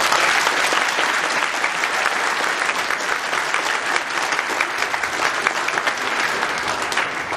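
Steady, loud audience applause at a high school prom dance event in Ähtäri, sustained clapping from a crowd with no break throughout.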